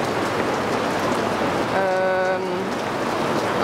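Steady, heavy rain falls on a Paris street as a dense, continuous hiss. Partway through, a short tonal sound briefly rises above it.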